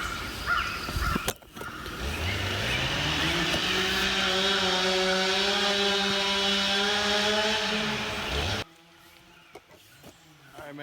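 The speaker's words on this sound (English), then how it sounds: "The chainsaw's still going." A chainsaw motor idling, not cutting, gives a loud, steady drone for several seconds with strong harmonic whine, then cuts away to quieter outdoor background near a trailhead.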